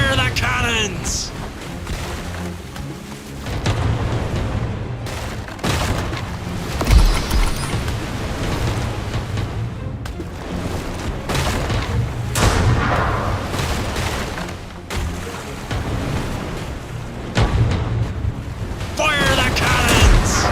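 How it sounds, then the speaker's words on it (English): Ship cannons fire in a naval battle in the pirate video game Pirate Commander, with repeated heavy booms and mechanical clatter rolling over a steady low rumble, while a voice talks over the action. "Fire the cannons!"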